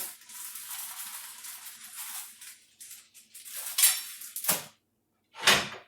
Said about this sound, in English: And then I'm going to add some of this frozen corn.